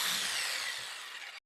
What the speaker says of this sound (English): I'm drilling the end holes with a 5/16 inch drill bit and connecting them with the jigsaw